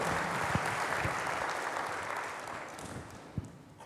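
A church congregation applauds during an Indonesian sermon, a steady, fairly loud wash of many hands clapping throughout, with a couple of sharper individual claps standing out.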